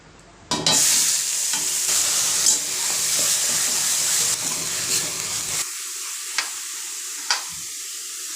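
Spiced masala sizzling and being stirred in a pan, a steady loud frying hiss that runs for several seconds, then drops off suddenly, leaving a lower hiss broken by a few sharp clicks of the spoon.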